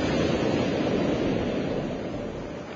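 Pacific Ocean surf rolling in as a steady, dense wash of breaking waves, loud and close throughout with no pauses, easing slightly toward the end.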